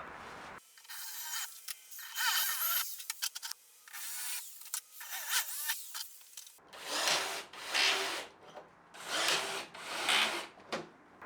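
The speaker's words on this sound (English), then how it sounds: "I like to drill and rivet a single pilot hole first before drilling and riveting the remainder" A power drill whirs in several bursts as pilot holes are drilled for a bass speaker case, then rhythmic broadband pulses follow, like repeated drilling or riveting strokes close by, with no talking.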